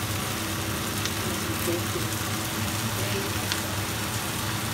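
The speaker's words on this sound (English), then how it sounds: "It's really hard to fry with one hand" Food fries in a pan with oyster sauce, a dense, steady sizzle and crackle close up, continuous for the whole stretch with faint stirring scrapes and no talking.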